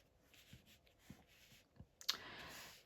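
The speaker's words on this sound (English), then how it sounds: "Shuffling." Tarot cards are shuffled and moved about at close range, giving a series of soft scattered taps and light slides with a brighter flick near the end, all quiet and with no talking.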